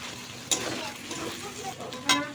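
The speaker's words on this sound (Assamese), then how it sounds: "এইখিনি অকণমান ভাজিম আৰু" Meat seasoned with meat masala and salt sizzles in a pan, with two sharp scrapes of the stirring spoon against the pan over a steady frying hiss, close and clear.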